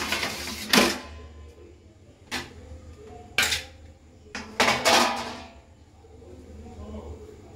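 A cooking pot is handled while puffed rice balls (muri moa) are made, giving several sharp metallic knocks and clanks close by at irregular intervals, with voices talking around them.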